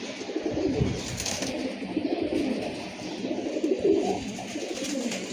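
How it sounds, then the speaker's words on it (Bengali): Breeder pigeons coo softly and repeatedly in low, rolling calls, several birds overlapping close by. "এগুলো হচ্ছে ব্রিডার কবুতর"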